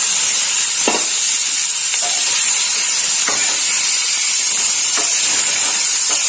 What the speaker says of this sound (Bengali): আমি আলাদা করে আর চিংড়ি মাছটা ভাজবো না এই ফোড়নের মধ্যেই চিংড়ি মাছটা দিয়ে দেবো